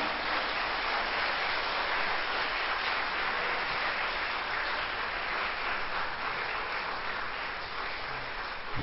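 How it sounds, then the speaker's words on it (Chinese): Steady, dense audience applause fills the hall after a live song performance, a continuous close wash of clapping that holds at an even level throughout with no voices over it. "老师再一次带来掌声"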